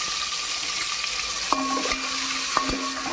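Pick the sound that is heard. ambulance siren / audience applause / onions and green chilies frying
onions and green chilies frying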